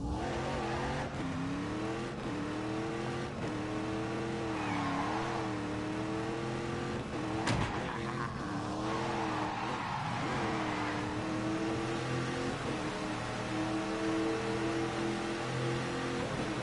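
A car from The Grand Tour game roars around a racetrack, its engine rising and dropping through gears with bursts of tyre squeal and skidding, steady and fairly loud throughout.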